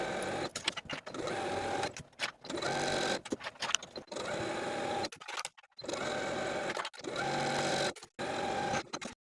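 Close sewing machine runs stitching a dress hem, whirring in steady bursts broken by short stops and restarts.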